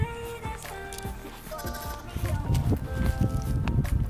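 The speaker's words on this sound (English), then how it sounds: "This is Pascal, the young dwarf goat here." A young dwarf goat bleats in short wavering calls among sheep and goats grazing outdoors, with a person talking and footsteps shuffling nearby.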